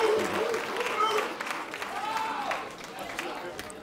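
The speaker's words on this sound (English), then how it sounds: "Please give a round of applause for Tyne Newman." An awards ceremony audience breaks into applause, a steady wash of many hands clapping that gradually fades, with cheering and talk mixed in.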